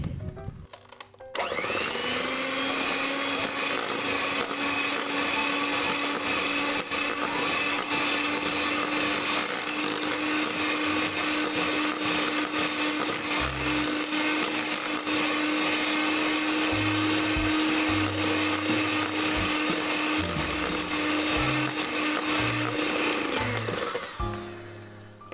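An electric mixer beats tapioca cheese dough with coconut milk. It starts with a click, holds a loud, steady motor whine for over twenty seconds, then winds down and stops.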